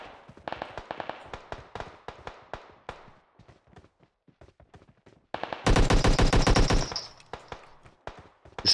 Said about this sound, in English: Shots are fired.